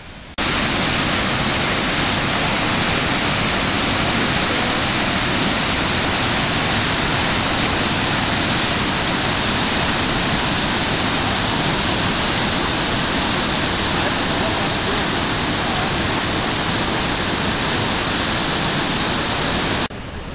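Waterfall at the Rumbling Bridge, Hermitage, a loud, steady, dense rushing roar of falling water that fills the whole scene without pause, heard close and alone with no talk.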